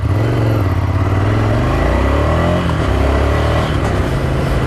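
Ducati Scrambler Desert Sled motorcycle engine accelerating under way, loud and close, its throbbing note rising through the revs, easing off and then climbing again, with wind rush over it.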